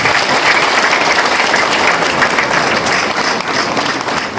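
Sustained applause from an audience welcoming guests at an RPF Inkotanyi community meeting in Nyarutarama cell, many hands clapping densely and evenly at close range for several seconds without talk.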